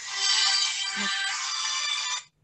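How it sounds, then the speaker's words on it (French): A mobile phone rings with a bright, sustained electronic ringtone, loud and close, lasting about two seconds before it cuts off abruptly. "Mon téléphone n'arrête pas de sonner."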